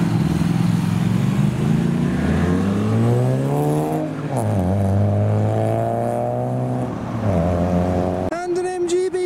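An MGB GT fitted with a 3.5 litre Rover V8 pulls away at a drive-through car show, its deep engine note rising and falling steadily through the gears, loud and close, before a brief clatter at the end.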